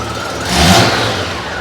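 A Honda GL1500 Goldwing motorcycle engine, open for a coolant change, gets one quick throttle blip: the revs rise and fall back to a steady idle, close and loud, with no talk.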